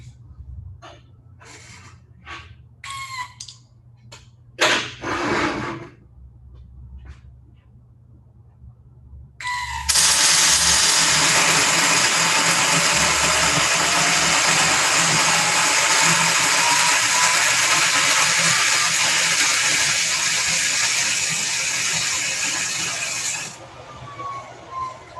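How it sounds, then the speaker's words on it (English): MIG welder running with the shielding gas turned off: a loud, continuous crackling, spitting arc lasting about fourteen seconds, preceded by scattered clicks, taps and handling noises in a quiet workshop. "we're going to simulate a weld with the shielding gas turned off"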